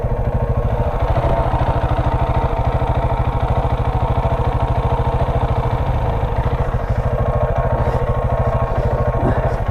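A KTM 690 single-cylinder motorcycle engine runs close by with a loud, fast, even thumping pulse, steady throughout with no voices.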